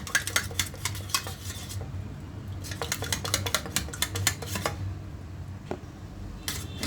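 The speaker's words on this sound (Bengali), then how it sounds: "হালকা লবণ এই তো ভালো করে ফেটিয়ে নিচ্ছি" A mixture with a little salt is beaten briskly in a bowl, giving rapid rhythmic clinks and taps in bursts with short pauses, close by and with no talking.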